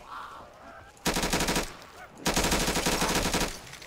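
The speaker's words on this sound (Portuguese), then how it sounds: "o barulho dessa galinha é feio" Harsh, raspy squawking from a chicken creature on a Custom Zombies video game map, in two long loud bursts of rapid rattling clucks with a quieter stretch before and between.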